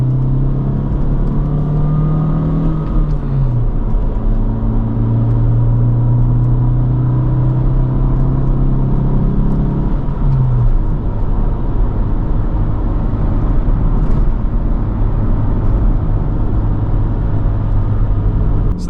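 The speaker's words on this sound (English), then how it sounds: "This right here is probably the hardest the car has to work the entire trip. I'm going up a decently steep hill." A Honda Civic strains up a steep hill while towing, its engine droning loudly and steadily from inside the cabin with rising and falling tonal whine as revs shift, no voices present.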